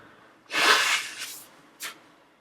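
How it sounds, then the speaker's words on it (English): A person leaning away from the camera blows their nose in one loud, breathy honk lasting about half a second, followed by a softer trailing blow and a short final snort, close by with no talk. "I'm just gonna lean out of the camera here, blow my nose."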